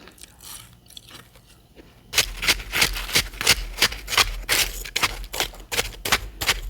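Crunchy refrozen crushed ice topped with refrozen powdery ice is bitten and chewed up close in a whisper-style setting, a quiet rustle giving way to a loud, steady run of sharp, rhythmic crunches.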